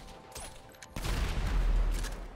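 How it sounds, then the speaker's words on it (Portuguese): Explosions in GTA V during an alien apocalypse scene: a faint crackle, then a sudden loud blast that rolls into a sustained deep rumble with scattered pops. "Tô escutando explosões lá em cima."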